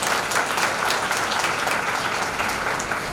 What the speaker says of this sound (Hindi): आप अपने लिए सबके लिए एक बार जोरदार ताली बजाएं।